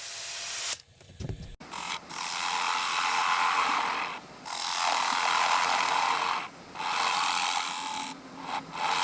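Sandpaper in 80 grit rubs against a spinning poplar wood dish on a lathe, making a steady, hissing scratch broken by several short pauses.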